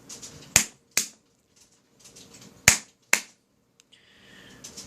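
Sharp hand claps triggering a homemade soldered double clap switch circuit: two pairs of crisp, loud claps, each pair about half a second apart, followed by a soft tone from the circuit.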